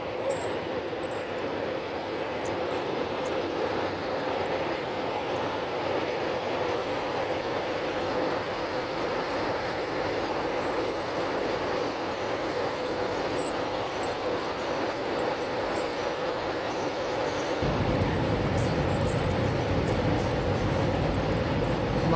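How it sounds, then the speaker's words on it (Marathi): A long freight train rumbles steadily across a river bridge on the Belkhedi to Kareli line, a continuous loud roar of wheels and wagons that deepens and swells toward the end. "रेल्वे आली आहे"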